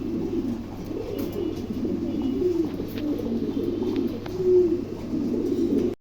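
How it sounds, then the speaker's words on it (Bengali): A pair of large zebra-type pigeons coo continuously nearby, their low rolling calls pulsing in repeated phrases with no talk over them. "চমৎকার এক জোড়া কবুতর"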